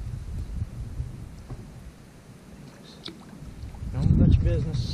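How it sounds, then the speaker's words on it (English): Strong wind buffets a kayak during bass fishing in Oklahoma, with low rumbling gusts that swell toward the end and someone talking over them. "Wind's blowing 900 miles an hour."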